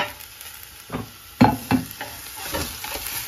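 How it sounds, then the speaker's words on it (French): Onions and beef feet are sautéed in a pan, with several distinct stirring knocks and scrapes, one louder clatter midway, over a soft background sizzle and no voices. "on fait revenir le tout jusqu'à temps que les oignons soient translucides"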